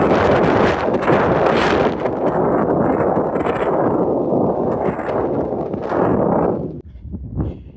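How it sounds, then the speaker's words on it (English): Harsh wind buffets the microphone on a hiking trail above a valley in Draper, Utah, a loud continuous broadband roar with gusts that fades near the end. "That wind is kind of harsh right now."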